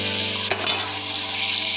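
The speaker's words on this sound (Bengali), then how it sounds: "কড়া ভাজলে হবে না, একটু হালকা ভাজতে হবে, মোটামুটি ভেজে উঠিয়ে নিতে হবে।" Pieces of katla fish and prawns fry lightly in a pan with a loud, steady, close sizzle, broken briefly by a soft scrape or clink midway.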